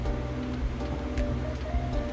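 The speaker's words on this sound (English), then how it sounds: "I got the fan going because it's super hot" An electric fan runs on a hot day, producing a steady low whooshing hum with a constant broadband hiss, close and even throughout with no voices.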